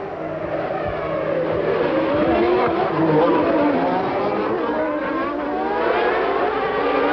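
Formula One cars of the 1991 Monaco Grand Prix come around the street circuit in Monte Carlo, their engines making a continuous high, shifting whine that swells and fades, with a commentator talking over it.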